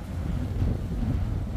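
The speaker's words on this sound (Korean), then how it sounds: "오늘 바람이 세가지고" Strong wind at the seaside on a Hokkaido cape, a loud, continuous low roar buffeting the microphone with no breaks, with faint surf beneath.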